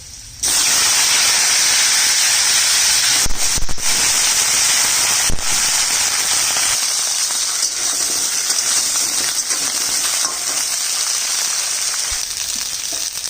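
Potato and mixed vegetables are added to hot oil with dried red chili and black cumin, starting a loud, sustained sizzle and hiss with scattered crackling pops that gradually settles and softens.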